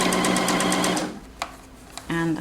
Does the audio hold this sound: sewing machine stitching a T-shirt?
yes